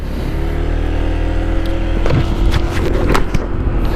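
A Honda PCX 160 scooter engine starts up and idles, then revs and pulls away with a rising whine and road noise, close by.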